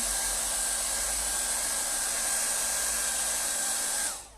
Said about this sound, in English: I'm just going to put my hairdryer back on.